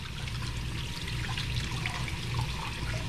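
A kitchen faucet runs steadily while hands are rinsed under it, a continuous close splashing wash of water that holds even for about three seconds with no voices.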